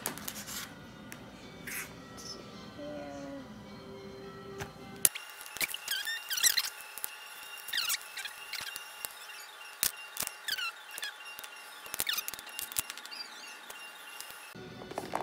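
Scissors snip and scrape at a plastic radio-frequency wristband in a series of short, irregular cuts, close by, with small handling rustles between them.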